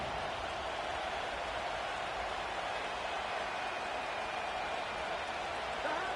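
A football stadium crowd at a Titans versus Bengals game cheers in a dense, steady roar that continues unbroken and loud throughout.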